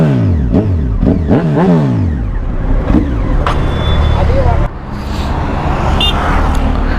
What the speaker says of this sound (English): I'll make you hear the exhaust when she starts the bike